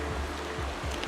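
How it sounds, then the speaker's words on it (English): Heavy rain pours onto a small trout stream, a dense, steady wash of noise with low water rushing underneath, close and continuous. "It's pouring."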